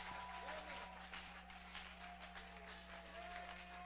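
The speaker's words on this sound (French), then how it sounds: "Give him applause, brother." A church congregation claps over a steady low electrical hum, giving scattered, faint applause with a few brief cheers mixed in.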